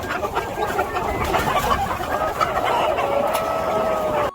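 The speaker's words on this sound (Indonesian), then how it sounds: "Ini seekor ayam." A chicken toy from an animal figure set gives a loud, busy run of clucking and squawking that fills the few seconds with no speech.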